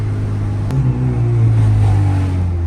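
Close and loud, a turbocharged Honda B20 engine revs with VTEC engaged, its steady rumbling drone swelling after a sharp click near the start and then holding high, with no voices.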